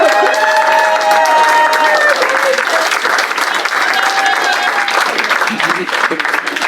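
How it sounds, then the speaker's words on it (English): Loud, close applause fills the room at a political campaign kickoff event, with some cheering mixed in and faint musical tones underneath, the clapping continuing throughout. "can we offer a round of applause for David and all of his support as he makes his way back?"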